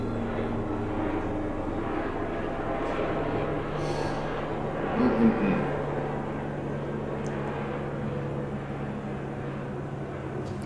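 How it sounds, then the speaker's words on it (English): A steady low engine drone of a helicopter passing overhead, continuous and fairly loud throughout, with no talking. "Token helicopter every time, right?"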